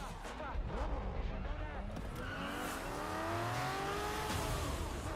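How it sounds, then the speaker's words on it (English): A supercharged Chevrolet Camaro ZL1 in a racing video game, its engine rising as it accelerates, with a steady rising whine and rumble and a brief tire squeal, continuous throughout under faint talk. "Ooh, that sound good. That's a ZL1 supercharged Camaro."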